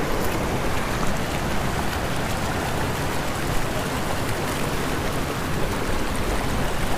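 A small stream at a trail crossing near the Velma Lakes in the Desolation Wilderness rushes and burbles steadily nearby, a continuous loud flowing hiss with faint splashing texture and no talking.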